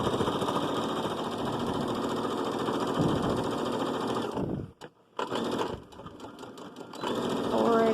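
A sewing machine stitches rag quilt seams, a fast steady mechanical whir that runs continuously, pauses briefly in short bursts and stops, then resumes, close by with a voice faintly underneath.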